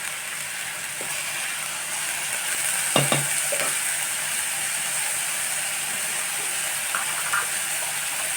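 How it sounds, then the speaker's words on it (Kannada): Onions frying in a pan while being stirred and softened for a fresh field bean stir-fry, a continuous close sizzle with occasional spoon clinks and scrapes against the pan, no voices. "ಈರುಳ್ಳಿ ಹಾಕಿ ಮತ್ತೆ ತಿರ್ಗಾಡ್ಕೋಬೇಕು ಸ್ವಲ್ಪ. ಇದು ಈರುಳ್ಳಿ ಉಮ್ಗೊಯ್ಬೇಕಲ್ಲ"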